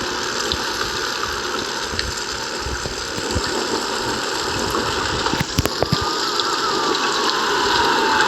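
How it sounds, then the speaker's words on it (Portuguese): Heavy rain pours on a Marcopolo Viale city bus on line 411 in Fortaleza. A constant loud hiss of rainfall sits over the low rumble of the idling engine, with occasional knocks and rattles. "Tá chovendo que só aqui, galera. Tá uma chuva, meu amigo."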